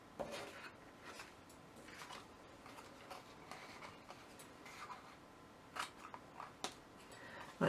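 Scissors trim the small tabs on a paper gift box, producing quiet, close snips and soft paper rustling in a sparse, irregular series.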